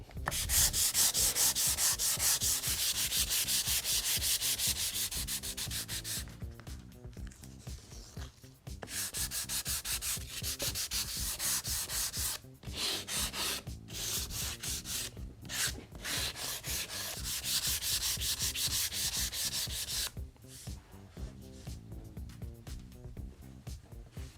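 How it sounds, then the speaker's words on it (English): Sandpaper rubbing steadily along the grain of wood filled with Timbermate grain filler, making a loud, close rasping hiss in long strokes, broken by a few brief pauses and short rhythmic passes. "Make sure you always sand with the grain."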